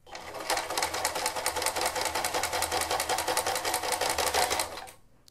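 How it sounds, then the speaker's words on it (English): A sewing machine stitching a fabric juggling ball, running in a fast, even rapid-fire clatter for about four seconds before winding down, close and fairly loud with no talk. "we get it folded like that, stick it into the machine."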